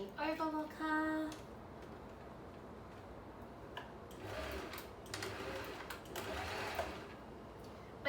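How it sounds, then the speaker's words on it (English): Overlocker sewing Easter scrunchies, a soft whirring run with quick ticking clicks, mostly faint under a background hum, with a brief louder burst near the start. "I don't need to change the thread on the overlocker"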